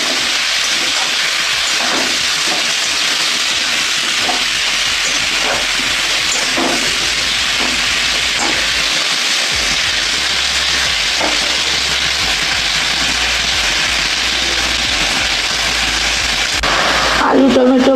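Potatoes and tomatoes with salt and turmeric sizzle in hot oil, a loud, steady hiss with faint stirring clicks, continuing unbroken to the end.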